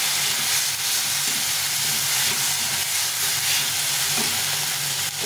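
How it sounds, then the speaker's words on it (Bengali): Spices fry in a pan with salt and turmeric, giving a loud, steady hiss and sizzle up close, with faint scraping from stirring underneath; no one speaks. "এখন লবণ পরিমাণ মতো আর 1 চামচ হলুদ দিয়ে দেখে ভালো কষিয়ে নিই"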